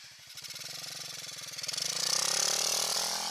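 A dirt bike engine is revved up for a hill start on a slope, a close, buzzing single-cylinder note that rises in pitch and grows louder as the throttle opens, with no talking.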